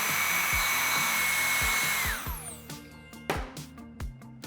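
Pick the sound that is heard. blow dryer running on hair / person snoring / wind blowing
blow dryer running on hair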